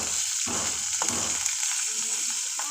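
Ginger paste sizzles and fries in a hot pan for a taro leaf dish, a steady close crackle with spatula scrapes and stirring bursts throughout.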